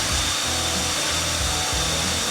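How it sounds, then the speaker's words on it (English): A carbide end mill drills holes in metal with a pecking motion, giving a continuous high machine whine with repeated low pulses as the cutter plunges and retracts. "we're swapping to a carbide end mill to mill or drill each of the holes to the proper depth"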